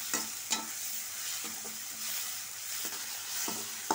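Onions and tomatoes sauté in a pan with a steady low sizzle, broken by several distinct spatula scrapes and taps against the pan at irregular intervals.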